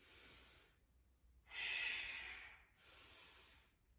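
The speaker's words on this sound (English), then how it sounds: "Deep Ujjayi breaths, flood this space." Deep ujjayi breathing in a yoga twist: three slow, hissing breaths close to the mic, with a louder, rougher middle exhale and quiet gaps between them.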